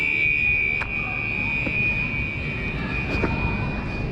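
Fire alarm sounding in a grocery store refrigerator room, a steady high electronic tone droning continuously over roomy background hum, with a few faint clicks.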